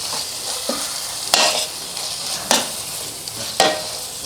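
Turmeric powder, garam masala and kalonji seeds sizzle in oil in a pan for an omelet, with a steady hiss broken by three or four sharp scraping stir strokes, close and distinct.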